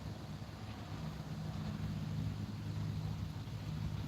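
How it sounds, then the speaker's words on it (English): Strong wind buffets the microphone at the water's edge during cold-weather fishing, a steady low roar with gusty rumble and no speech, moderately loud throughout. "As you can tell, it's really windy."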